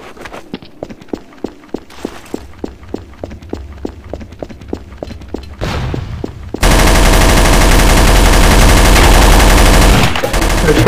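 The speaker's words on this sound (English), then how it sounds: "He just killed everyone with the pump shotty." Pump shotgun fire in the game Counter-Strike on the de_dust map: a rapid run of sharp, evenly spaced shots for about five seconds, then a burst of dense, loud continuous gunfire and noise that fills the rest.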